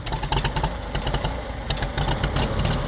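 A family-owned 1945 Farmall H tractor on an Illinois farm runs close by, its engine chugging in a steady, rhythmic idle with no voices over it.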